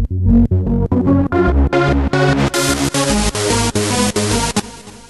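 A hardstyle synth lead plays a steady run of punchy notes while its filter cutoff opens, the tone growing brighter and buzzier toward the end; loud, with no voices.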